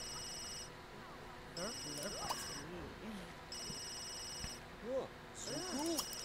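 A telephone rings in The Sims 3 in repeated bursts of bright electronic trills with pauses between them. Game voices chatter throughout, clearly above the ringing.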